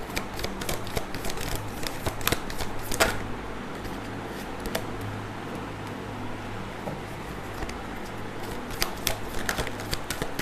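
Tarot cards being shuffled and drawn during a reading give a steady run of soft riffling and sliding, with sharper flicks and snaps scattered throughout, close up with no talking.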